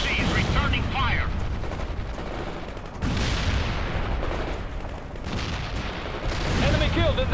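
Loud, continuous gunfire in the World in Conflict PC war game, with machine-gun bursts and heavy booms layered in a dense battle mix while in-game voices talk over it.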